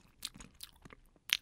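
Grilled carp being eaten, with a few short crunchy bites and chewing sounds in separate bursts, fairly faint and close, the sharpest crunch at the end.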